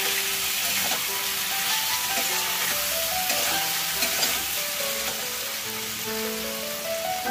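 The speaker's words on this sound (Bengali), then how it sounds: "আগে একটু পোস্তটা এর মধ্যে একটু নেড়ে নিচ্ছি।" Poppy seed paste stirred and fried in a pan crackles and sizzles loudly and steadily, with scraping stirring strokes throughout.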